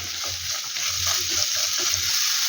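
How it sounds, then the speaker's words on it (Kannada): Sliced beans and carrots fry in a pan with ginger-garlic paste for a veg roll filling, giving a steady, close sizzle with soft stirring scrapes running through the whole stretch. "ಈಗ ಬೀನ್ಸ್ ಮತ್ತು ಕ್ಯಾರೆಟ್ ಆ್ಯಡ್ ಮಾಡ್ಕೊತಿದ್ದೀನಿ. ಇದನ್ನು ಚೆನ್ನಾಗಿ ಫ್ರೈ ಮಾಡ್ಕೊಳ್ಳೋಣ."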